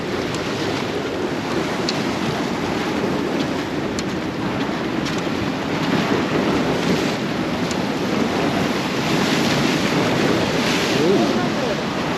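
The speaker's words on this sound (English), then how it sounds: "Whoa, water splash up, man." Steady roar of waves surging and splashing against jetty rocks, with constant wind buffeting the microphone throughout.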